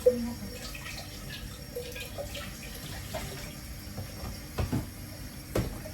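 Water runs from a tap into a container to collect water in a home kitchen, a steady close splashing stream with occasional louder drips and clunks, no talk over it.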